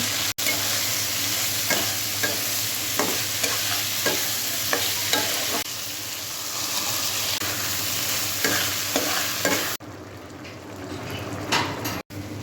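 Potatoes fry with dried ribbonfish in a pan, sizzling steadily and loudly while a spoon scrapes and stirs in repeated strokes. Near the end the sizzle drops away, leaving quieter clatter.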